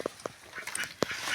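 A duck settled on a nest of eggs gives a few short, soft quacks, spaced apart, near and fairly quiet, with a faint rustle between them.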